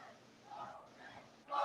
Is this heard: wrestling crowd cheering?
yes